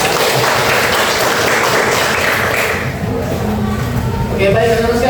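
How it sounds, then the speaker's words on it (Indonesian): Students in a classroom give a round of dense, steady applause that fills the room and then thins out as a voice begins speaking. "kita beri aplaus dulu"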